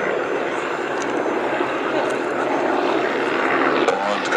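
Focke-Wulf Fw 44 Stieglitz and Bücker Bü 131 Jungmann vintage biplanes flying overhead in formation at an air show display, a steady, loud propeller engine drone sustained throughout with faint crowd noise beneath.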